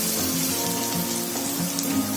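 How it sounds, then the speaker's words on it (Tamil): Chopped onions sauté in a pan for a spicy red snapper fish gravy, giving a steady, close, continuous sizzle and hiss with no talking. "இப்போ வெங்காயம் ஒரு 5 நிமிஷம் நல்லா வதங்கட்டும்"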